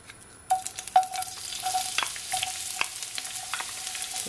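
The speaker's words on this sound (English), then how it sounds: "I'm gonna firstly add my garlic with my onions" Garlic and onions drop into heated vegetable oil and burst into a loud sizzle, followed by steady close frying with stirring clatter for a few seconds, no voices.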